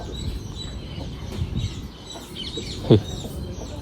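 On a farm, hens with their chicks cluck and peep faintly against a busy outdoor background, with one sharper, louder call near the end.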